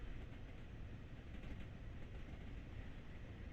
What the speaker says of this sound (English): Got that train pulling forward. Yeah, that train's pulling out.